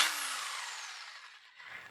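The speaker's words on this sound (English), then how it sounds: "I used a 3/8 drill bit for my saw." A power drill fitted with a hole saw, after piloting with a 3/8 drill bit, cuts speed holes into a car's metal body, giving a loud, steady high-pitched grinding whine that eases slightly toward the end.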